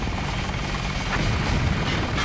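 A helicopter in the video game Deus Ex whirs with a loud, steady rotor drone and a low throbbing pulse. No voices are heard over it.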